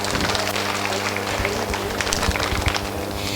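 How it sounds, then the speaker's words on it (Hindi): An audience at a gathering claps for a welcomed guest in a dense, steady patter that runs throughout, with some background voices. "एक बार तालियां बजाएं श्वेता के लिए।"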